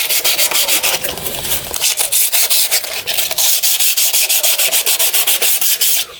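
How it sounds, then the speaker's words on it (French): Cloth scrubbed back and forth over the gasket face of a Farmall Cub engine, giving a close, loud run of fast rhythmic rubbing strokes with a brief pause near the start, heard alone. "un dernier petit coup avec la toile pour nettoyer le plan de joint"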